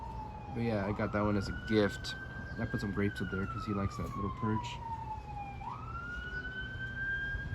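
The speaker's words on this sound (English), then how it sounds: "Sorry for the sirens." A siren wails in the background, rising and falling in long sweeps, while a person talks steadily over it.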